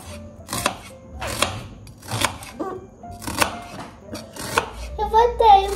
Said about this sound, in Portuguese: ela não gosta quando eu tô cortando cebola